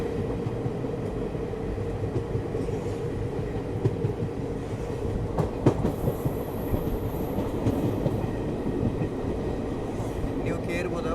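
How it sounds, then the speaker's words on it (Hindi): The Amrita Express rolls into Palani railway station, a loud continuous rumble of wheels and carriages with rhythmic clatter and occasional squeals, heard from on board. "देखिए हम लोग पलनी रेलवे स्टेशन एंटर कर रहे हैं"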